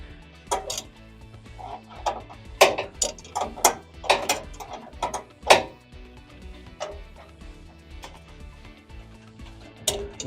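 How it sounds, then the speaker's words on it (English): A wrench ratchets and clicks against bolts while tightening them on a Trane rooftop unit blower motor, giving a series of sharp metallic clacks and short ratcheting bursts close by, irregular and unaccompanied by talk. "Now I'm going to go back to my wrench. I'm going to tighten them down."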